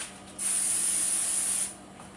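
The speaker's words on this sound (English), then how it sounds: "We're going to spray with a non-stick sprayer." Non-stick cooking spray is sprayed onto a sheet of paper in a kitchen in one steady hiss lasting just over a second, close and clear, with no talk.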